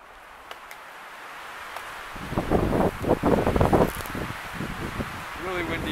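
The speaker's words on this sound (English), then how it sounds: "Really windy out today." Strong gusty wind blowing through woodland during a hare hunt, rising into loud rushing bursts with rustling after a quieter start, no talk heard.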